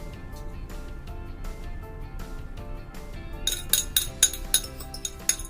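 Flour, egg, oil and yeast stirred together in a bowl for bread dough, with soft scraping at first and then a quick run of bright clinks of a utensil against the bowl, close by and with no voice.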